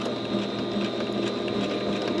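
A Singer One sewing machine stitches steadily at slow pedal speed during free motion quilting, a close, even mechanical whir with a fine rapid needle rhythm and no talking.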